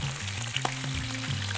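Chicken pieces for a malai roast fry in ghee, giving a steady close sizzle with a low background hum and a couple of faint clicks.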